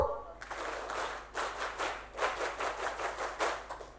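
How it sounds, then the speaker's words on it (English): A group gives a scout clap in a classroom or workshop setting, a burst of rhythmic, fairly loud hand claps from many people repeating across a few seconds in a patterned sequence. "Okay, together please, can I check? Scout clap,"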